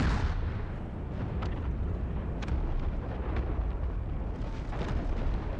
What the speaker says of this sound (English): there go the mortars lobbing over us